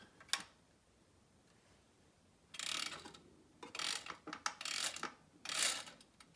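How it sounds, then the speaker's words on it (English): A clockwork mechanism on a fixed survey meter trainer being wound by hand: a faint early click, then several close ratcheting bursts in quick succession over near silence. "There's the clockwork mechanism sufficiently tightened."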